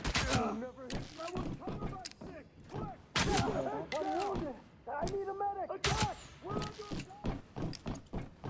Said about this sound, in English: Open fire now.